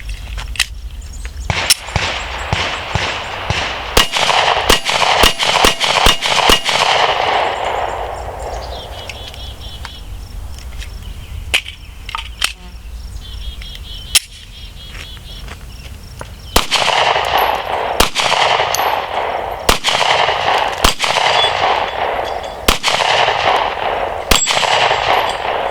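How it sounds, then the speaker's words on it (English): Glock 43 pistol fired at a range, sharp loud shots in quick bursts and spaced single reports with echoing tails, no talking. "so we're shooting the Glock 43"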